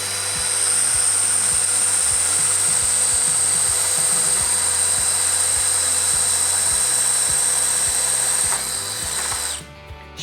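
A DeWALT cordless drill bores holes at speed 1, a steady high whine running loud and close for about nine seconds with a faint rhythmic thump underneath, then winding down.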